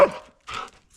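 Husky dogs bark and yip in three short bursts, loud and close, with brief silent gaps between them.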